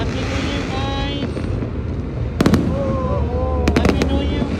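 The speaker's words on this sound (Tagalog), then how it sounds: "These fireworks are amazing." New Year's Eve fireworks at midnight crackle and boom in sharp bursts, with two clusters of loud close bangs over a steady windy outdoor backdrop while people talk and cheer nearby.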